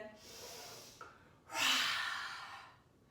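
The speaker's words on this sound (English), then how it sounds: "Easy breath in." Audible breaths: a soft airy inhale, then a longer, louder rush of breath that tapers off, close to the microphone.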